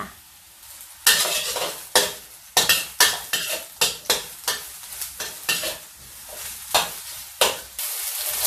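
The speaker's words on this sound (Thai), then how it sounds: "เราก็มาผัดกันนะคะ ใส่น้ำมันรำข้าวลงไปเนี่ยประมาณสักสองช้อนโต๊ะนะคะ ตามด้วยเห็ดหอมสดลงไปค่ะ" Fresh shiitake mushrooms are stir-fried in rice bran oil, with a spatula scraping the pan in a rhythmic series of loud sizzling strokes about once a second, close by.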